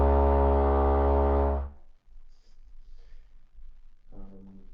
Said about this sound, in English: This is a real foghorn.